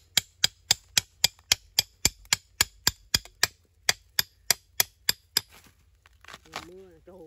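Fourteen sharp, evenly spaced chopping strikes as a hammer cuts bamboo shoots in a Mekong Delta home garden, loud and close, followed by someone speaking.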